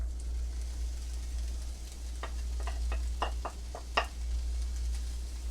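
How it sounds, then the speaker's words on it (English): Two cups of diced onion fry in a couple of tablespoons of canola oil in a pan, giving a soft, steady sizzle with a few sharp stirring clicks and scrapes over a low constant hum. "to that I'm going to add in 2 cups of diced onion"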